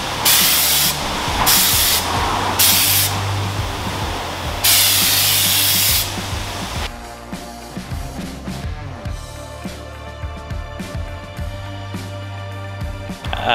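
A paint spray gun hisses in several loud bursts while spraying car wheels, each blast separated by short pauses and the last running about a second and a half, followed by quieter clinks and handling noises.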